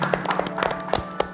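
A talk show studio audience claps for a guest in a short, uneven burst of taps and claps over a low hum.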